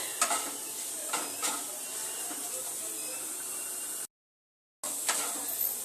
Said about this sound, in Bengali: আলুটা কিন্তু 7 মিনিটের মতো ভেজে নিয়েছি